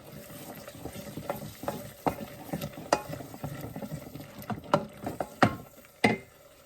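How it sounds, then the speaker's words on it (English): A pot of pumpkin soup with bacon and shallots is given a quick stir, a spoon sloshing and knocking against the pot in a few soft, close strokes. "giving it a quick stir"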